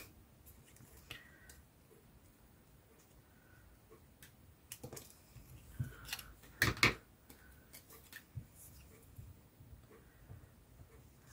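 Quiet, close scissors snips cutting an old Christmas card, a scattered series of small clicks and cuts with a brief louder cluster midway.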